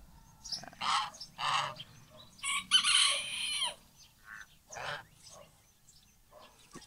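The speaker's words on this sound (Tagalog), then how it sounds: "sisiw natin na Tagalog na manok," Chickens and chicks, including native Tagalog and Java breeds, cluck and squawk in a series of short calls, with a rooster's crow in the middle, fairly close in a quiet yard.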